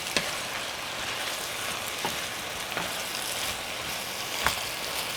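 Soft, steady sizzling of chopped carrots frying in a pan, with a few faint clicks of utensils, quiet and close.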